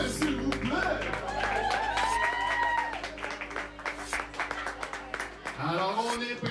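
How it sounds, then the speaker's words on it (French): Audience applause for the musicians at a live performance, a steady wash of clapping across the room, with a voice speaking over it and music-like tones near the start. "Applaudissements à nos musiciens, s'il vous plaît."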